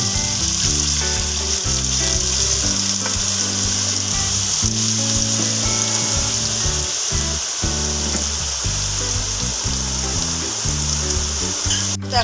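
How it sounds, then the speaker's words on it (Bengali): Potatoes fry in a pan in a village kitchen, giving a loud, continuous close-up sizzle with a dense, even crackle throughout and no talking. "আলুগুলো আমার ভাজা হয়ে গেছে খুব ভালোভাবেই ভাজা হয়েছে"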